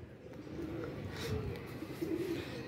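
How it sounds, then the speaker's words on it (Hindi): Six or seven trained high-flyer pigeons circle overhead while a soft cooing rises now and then over a steady outdoor background, faint and fairly distant, with no voices. "ये देखें छः सात कबूतर अभी भी उड़ रहे हैं"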